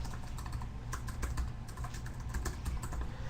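Typing on a computer keyboard: steady, fairly quiet clatter of rapid key presses over a low background hum, with no voices.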